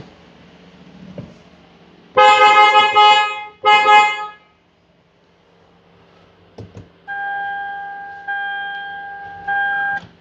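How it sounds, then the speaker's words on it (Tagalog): An aftermarket PIAA Sports horn fitted to a new Toyota GRS Fortuner, sounding two loud bright blasts, then after a short pause several longer, softer horn tones in succession. "for the front, we upgrade the horn. On this unit, we're using the PIAA Sports"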